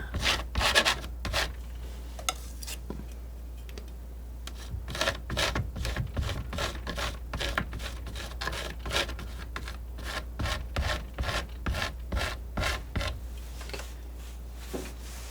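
A palette knife smooths paint across canvas in soft, close, rhythmic scraping strokes, steady and unhurried, with no talk.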